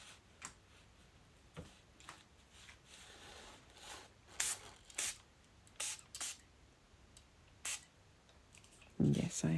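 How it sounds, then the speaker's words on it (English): Several short hissing spritzes from a spray bottle, spaced irregularly, with quiet tapping and handling noises between them. "So maybe I'm about to give it another spray of water."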